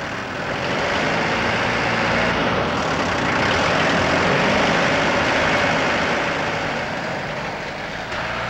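A new 1973 car runs on a factory rolling road and is taken up through the gears, producing a loud, continuous engine drone that swells and eases as the revs change.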